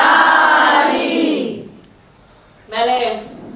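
Mosque congregation at a majlis shouting the response Ya Ali in unison after someone speaker's Naara-e-Haidari call, a loud crowd chant fading out, then the speaker's voice resumes.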